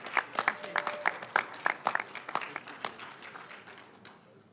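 Sparse, scattered clapping from a press conference audience greeting the Mayor of Houston, sharp individual claps in an uneven rhythm that thin out and fade over a few seconds, with no voices over it.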